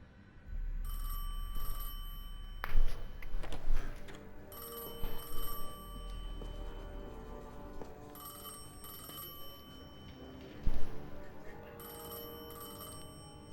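A telephone bell rings repeatedly during a video game cutscene, the bursts of ringing loud over a low drone and muted background music, with no talking.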